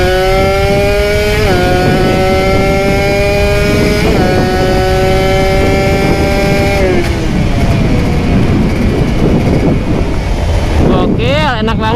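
A Kawasaki Ninja ZX150 motorcycle accelerates hard along a straight, engine revving upward through several gear shifts with steady climbing tones, heard up close under heavy wind buffeting, with a rider's voice briefly audible.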